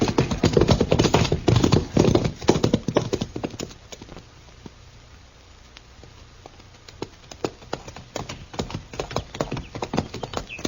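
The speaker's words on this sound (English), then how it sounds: "Come on, we'll ride back to Stanley's ranch." Horses' hooves clip-clop steadily as riders head back to a ranch in an Old West setting, loud and close at first, fading to quieter hoofbeats midway, then picking up again.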